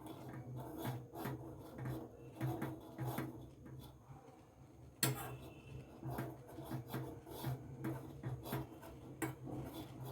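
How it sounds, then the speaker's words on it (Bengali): Butter being stirred in a pan on a gas stove until it melts, with soft, quiet scraping and rubbing strokes in an irregular rhythm and one sharper knock midway. "যতক্ষণ না বাটারটা এর মধ্যে গলে যাচ্ছে ততক্ষণ আমি এটাকে নাড়তে থাকবো।"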